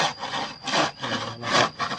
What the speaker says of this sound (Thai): ตัดแล้วก็เอามาเลื่อยไม้แบบนี้